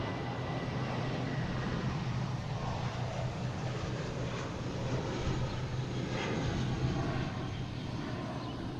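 A Puerto Rico special-livery airliner at Boston Logan International Airport, a steady broad engine roar holding at moderate loudness throughout, with no voices.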